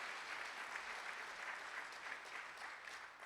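Applause at a casino grand opening ceremony, a steady wash of crowd clapping heard from a distance at moderate level for a few seconds.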